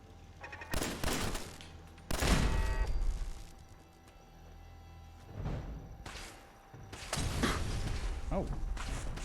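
Turret gunfire in Fallout 4 comes in several loud, separate bursts of rapid shots between quieter stretches, with a person speaking briefly.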